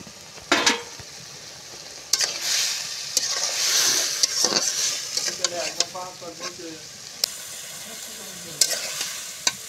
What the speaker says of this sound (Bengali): ঢাকনাটা খুলে নিয়ে এবার আমি ভালো করে কষিয়ে নেব